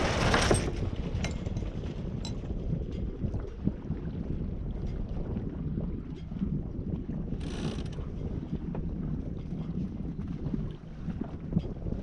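Wind sweeps steadily over a small sailboat on a solo passage, with continuous gusty microphone buffeting and occasional faint creaks of rigging or pulleys, and no one talking.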